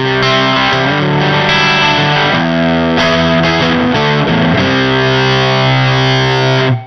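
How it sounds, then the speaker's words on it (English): An electric guitar with its volume knobs fully up runs through an EarthQuaker Devices Acapulco Gold fuzz pedal, modeled on a Sunn Model T amp, giving thick, loud, saturated fuzz chords that ring continuously up close. "we actually wind the guitar knobs all the way up, and it is fuzz, pretty much"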